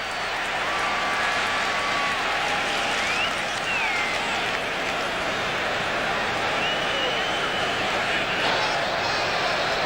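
Broad crowd applause and cheering fills a stadium at a Packers versus Rams NFL football game, a steady dense roar of clapping that holds for the full length with no pause.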